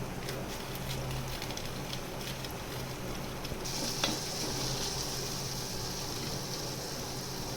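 Green chili frying in hot oil for sama khichdi, a soft, steady sizzle with faint stirring scrapes and a light clink partway through, quiet and close.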